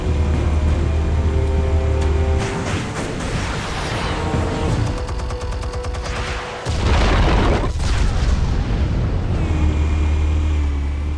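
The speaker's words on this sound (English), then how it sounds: "Explosives armed. Fire when ready." Explosives detonate in the Batman: The Telltale Series video game, producing loud, deep rumbling booms that swell and roll on with heavy low-end blasts and crackling debris throughout.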